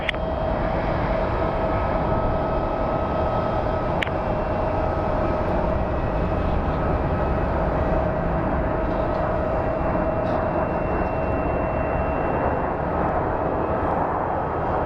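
United Airlines jet in old Continental livery arriving at Sky Harbor International Airport, Phoenix: a steady, loud engine roar with broadband rumble and a sustained whine, constant throughout with no talk.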